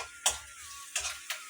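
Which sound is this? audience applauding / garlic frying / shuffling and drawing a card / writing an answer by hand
garlic frying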